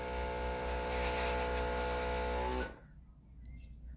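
An airbrush sprays plain air without paint, a steady close hiss and hum lasting about two and a half seconds before cutting off abruptly, leaving faint background noise.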